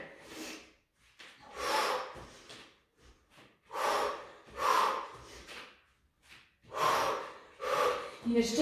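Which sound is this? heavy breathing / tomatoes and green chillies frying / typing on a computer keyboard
heavy breathing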